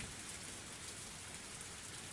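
Torrential rain downpour roars in a dense, unbroken broadband hiss, steady and enveloping with no gaps or voices across its brief span.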